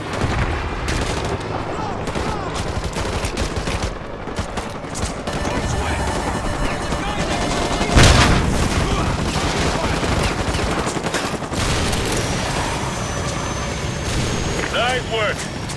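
Sustained gunfire and machine-gun bursts during a helicopter gunship fight in the Modern Warfare 2 campaign, a dense loud barrage throughout with a sharp blast near the middle and voices calling out over the shooting.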